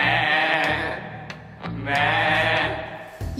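A goat bleating close by in two drawn-out wavering calls with a short pause between them.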